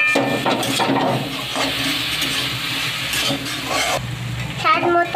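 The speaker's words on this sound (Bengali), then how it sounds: "সিদ্ধ করে রাখা ডালগুলো এখন আমরা নাড়াচাড়া করে একটু ভেজে নেব।" Boiled lentils being stir-fried in a pan with chopped green chillies, giving a steady sizzle with scraping stirs, fairly loud and close throughout.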